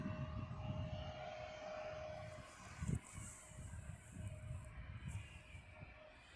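A Jet2 jet airliner taking off is heard from a distance as a low, steady engine roar. It rumbles faintly and continuously throughout, with no talk.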